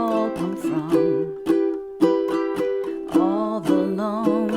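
A ukulele strums the chords of a song in a tutorial setting, with a series of distinct strummed chords ringing out clearly and closely in a steady rhythm, with no talking over them.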